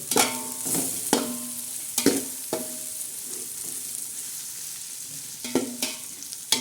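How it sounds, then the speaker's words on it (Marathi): Green chilies, coriander and tomatoes are stirred and fried in a pan for chicken pulao. Repeated scraping strokes of a spoon sound over a continuous, close sizzle. "हिरव्या मिरच्या कोथंबीर तर हे मिश्रण असं मस्त हलवून घेणार आहोत"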